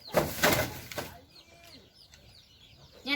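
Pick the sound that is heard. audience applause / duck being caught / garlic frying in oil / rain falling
duck being caught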